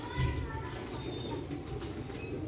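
Old-breed pigeons cooing close by in soft, repeated low coos, with a few faint chirps over quiet background noise.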